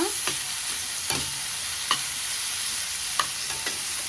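Tomatoes cooking in a pan with frying and sizzling, broken by several sharp scraping stirs spaced through the clip, close and steady with no talk.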